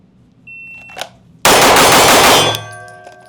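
A Staccato P4X pistol fires a rapid string of shots, a loud, dense burst of cracks lasting about a second after a faint click, then ringing and fading out.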